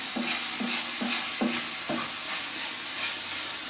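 Meat frying in a pan with seasonings and sauce is stirred, giving four distinct scraping strokes in the first two seconds over a steady sizzle that carries on alone afterward.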